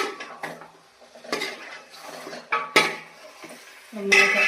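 A spoon stirs chicken curry in a pot, giving several loud clanks and scrapes against metal in an uneven rhythm and a brief sizzle near the end.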